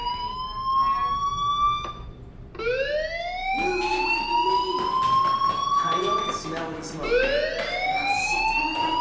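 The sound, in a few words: school fire alarm in video game Life Is Strange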